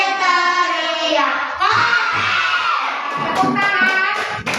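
Classroom of children shouting loudly together during a clapping and arm-rolling activity, a sustained noisy group yell with clapping and chatter mixed in.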